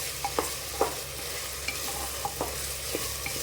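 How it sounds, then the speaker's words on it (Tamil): Vegetables for veg biryani are stirred and sautéed in a hot pan: a steady sizzle sits under several sharp scraping strokes of a spoon, close and fairly loud, with no voices. "எவ்வளோ நேரம் பிடிக்காமல் வதக்கணும்."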